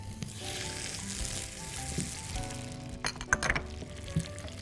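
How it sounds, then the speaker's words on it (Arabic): Minced onion and garlic fry in a spoonful of country ghee for a lentil soup topping, a soft steady sizzle under a constant background hum, then a brief cluster of clinks and scrapes near the end. "طاسة على النار، معلقة سمنة بلدي، بعدين بصل وثوم"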